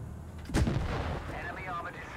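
A tank cannon fires once in the game World of Tanks Blitz, a loud, close boom that fades into a short rumble over a steady background hum.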